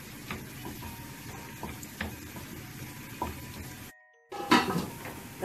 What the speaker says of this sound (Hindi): जीरा, छोटी लाल गोल मिर्चे और ये कड़ी पत्ता, ये इसमें ऐड कर देंगे थोड़ी देर के लिए